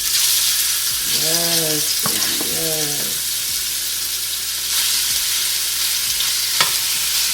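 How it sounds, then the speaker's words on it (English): Steady, loud sizzling of beef frying in hot oil for pepper steak fills the whole clip, with a brief spoken exchange and a couple of sharp clinks partway through. "I'm gonna get ready to add this beef in here and listen to that sizzle"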